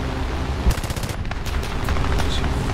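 Aircraft machine guns fire in War Thunder's air realistic mode, a D.373 fighter at close range, in several short rattling bursts over a steady engine drone.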